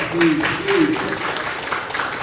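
Audience applause breaks out at an evening public talk after a guest speaker, a broad wash of clapping heard under a voice throughout the short burst.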